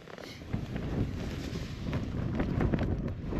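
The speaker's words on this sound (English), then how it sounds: "The wind's picked up." Strong wind blowing across a wild camp in the Cheviots, a steady roaring rush buffeting the microphone, moderately loud and building toward the end, with no speech.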